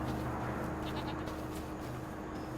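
Goats bleating in the farming video game Farm Sim 25, a few short bleats rising faintly over a constant droning game ambience and hum.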